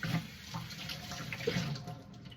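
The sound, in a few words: tap water running while wetting hands and silicone scraper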